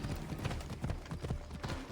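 A horse gallops in Assassin's Creed Odyssey, its hooves beating a quick, even clip-clop that stays fairly faint and moderately close throughout.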